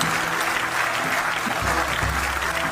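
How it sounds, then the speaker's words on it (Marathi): A live audience at a stage performance claps loudly and steadily, dense applause filling the space throughout. "ज्याला ज्याला बायको आहे त्यांनी टाळ्या वाजवा"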